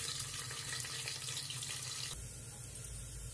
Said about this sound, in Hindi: देखिए आवाज आ रही है, इसका मतलब है कि तेल हमारा गर्म हो चुका है। अब प्याज को फ्राई करते हैं।